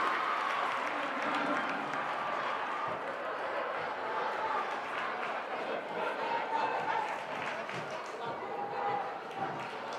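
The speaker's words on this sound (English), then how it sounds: "Phillipsburg crowd really into this game" Crowd noise fills a high school boys' varsity basketball gym, a steady murmur of fans with scattered claps and shouts, moderately distant and continuous.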